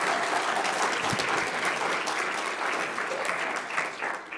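Sustained applause fills the room at a law school sports law awards ceremony, a dense, steady clapping from a large audience that holds loud throughout and tapers slightly near the end.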